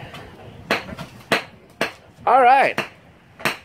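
A hammer smashing half an onion and a potato, giving several sharp, loud impact thuds spaced irregularly through the clip, with voices talking between the blows.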